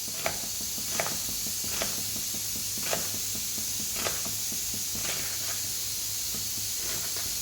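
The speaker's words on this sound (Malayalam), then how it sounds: "മൊത്തം ഇങ്ങനെ ഞാനൊന്ന് അരിഞ്ഞെടുത്തുകൊണ്ട് വരാം." A knife chops through elephant foot yam stems, striking in a regular beat of crisp, sharp taps about once a second over a steady background hiss, with no voices.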